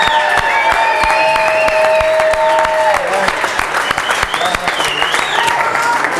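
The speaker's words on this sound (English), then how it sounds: "Let's give all these anglers a big round of applause." Spectators applaud the anglers at an ESPN outdoor fly fishing competition, a lively burst of clapping and cheering with sharp individual claps, mixed with whistles and music tones, thinning toward the end.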